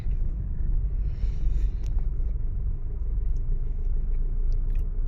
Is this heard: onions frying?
no